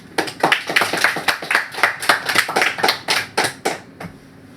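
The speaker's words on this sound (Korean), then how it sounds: "박수!" Middle school students in a classroom clap together in a loud, brisk burst of hand claps lasting about four seconds, ending with a few scattered claps and no talking.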